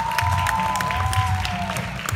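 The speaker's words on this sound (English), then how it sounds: "Let's hear that round of applause one more time." Pageant audience gives a round of applause at a live event, a dense crowd clapping with some cheering, while a sustained electronic tone from the sound system glides in the background.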